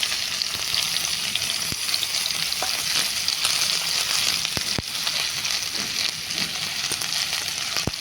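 Sliced onion frying in hot oil with asafoetida in a pan for a Gujarati yogurt-tempered val papdi dish, giving a steady, dense sizzle with occasional crackles and stirring scrapes throughout, close and alone.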